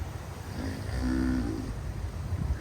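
A single drawn-out cow moo from cattle on a farm, moderately close and rising then fading over about a second, set against outdoor background noise.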